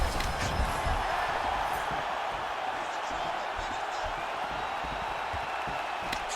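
A steady, dense arena crowd roar fills a simulated UFC fight video game bout, holding constant throughout while a commentator talks over it.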